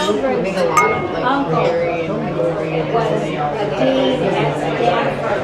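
Wine glasses clink together in a toast during a wine tasting in Sitka, Alaska. The light, bright clinks sound under steady chatter and nearby voices.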